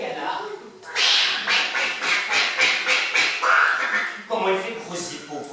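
A voice imitates a duck quacking in a run of rhythmic, nasal quacks during a French children's storytelling session about farm animals, close and clear.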